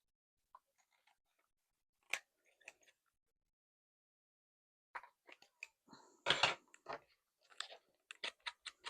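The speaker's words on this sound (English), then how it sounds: "I want to trim this a little bit where it's overhanging" Scissors trimming the overhanging edge of a paper swatch tag in a quiet craft space, giving a few faint snips, then a denser run of crisp cuts and clicks.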